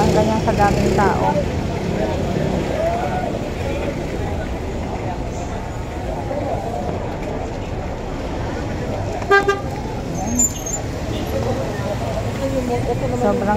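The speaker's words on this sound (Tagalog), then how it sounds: "Sobrang traffic." Heavy street traffic at the crowded Dangwa flower market in Manila: a continuous rumble of vehicles, several honks and toots standing out partway through, and voices talking throughout.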